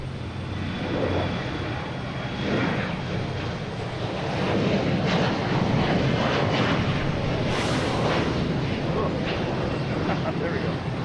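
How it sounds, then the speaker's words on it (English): An American Airlines Embraer E175 jet bound for LaGuardia roars past at Boston Logan in the afternoon, a loud, broad engine rumble that swells through the middle and holds steady, with wind buffeting the microphone. "we have an American Airlines heading to LaGuardia at E175"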